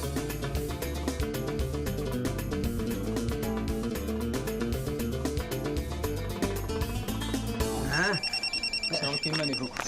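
A telephone starts ringing with a repeated electronic trill, cutting in near the end after a stretch of loud music.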